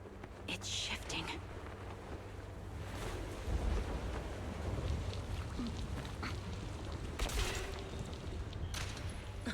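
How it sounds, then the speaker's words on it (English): Wind in a video game, a steady broadband rush with surf-like swells and brief louder gusts near the middle and end, running under faint talk throughout. "Oh, here we go. The wind."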